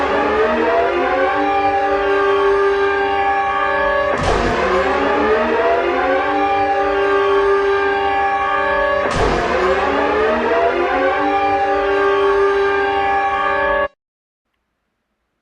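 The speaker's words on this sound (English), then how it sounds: "This next siren is an alert that's been used in the state of Texas." Texas emergency alert system siren, a loud sustained multi-tone wail with two sharp restarts, steady and harsh, then cutting off abruptly into silence.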